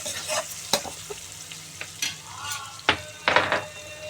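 Chopped onions with chilli and turmeric fry in a pan for a brinjal-tomato curry, a soft sizzle under intermittent sharp spatula scrapes and knocks against the pan, with no talking.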